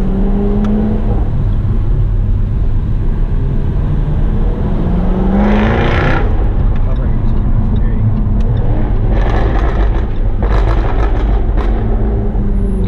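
A 2019 Jaguar F-Type R AWD in sport mode drives on city streets, its engine and exhaust giving a steady loud drone with rising revs, recorded from inside the car.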